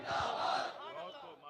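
A crowd at a religious gathering shouts a slogan together in one swelling, reverberant roar that fades out over about a second, heard alone without other talk.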